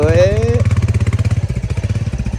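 A motorcycle engine idles close by with a steady, pulsing thump throughout, briefly overlapped at the start by a voice.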